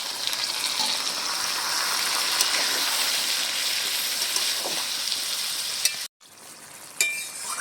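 Water splashes into a pan of sizzling chicken curry made with lemon and curry leaves, raising a loud, continuous hiss that is cut by a short break and then a clink.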